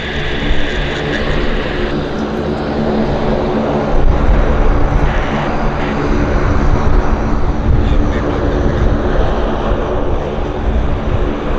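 An Air North Boeing 737-800 jet at Vancouver Airport gives a loud, sustained engine roar that swells slightly midway and holds steady, heard alone without talk.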